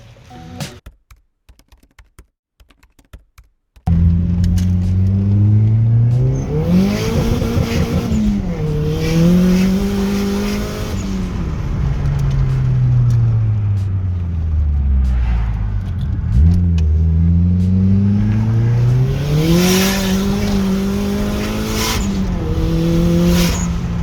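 A turbocharged four-cylinder car engine revs loudly and continuously, its pitch rising and falling through repeated throttle swells, after a few seconds of quieter clattering.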